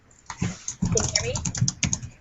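Quick clicking keystrokes on a computer keyboard come in short, uneven bursts at close range, with a voice talking at times over the clatter.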